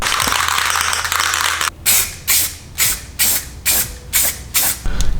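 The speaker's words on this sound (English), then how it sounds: "I'm gonna spray paint all on the inside here and just the very lip" A spray paint can fires a series of short hissing bursts, about seven in a row with brief gaps, close up while coating the inside and lip of a BMW M3 car wheel.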